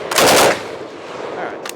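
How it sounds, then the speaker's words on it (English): A WWII-era Bren MKII light machine gun fires a loud, close rapid burst, followed by a quieter stretch and a brief second report near the end. "now you have Bren gun on the go, and you can do walking fire with it"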